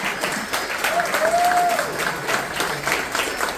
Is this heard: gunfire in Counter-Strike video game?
no